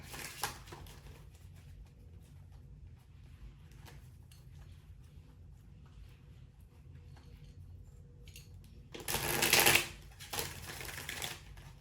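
Mostly quiet handling and faint rustles, then a loud, close riffle of tarot cards being shuffled near the end, followed by a softer flick.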